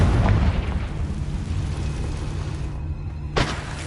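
Confringo blasting spell explosion in Hogwarts Legacy, a loud rumbling boom at the start that fades into a long tail, then a sharper second burst near the end.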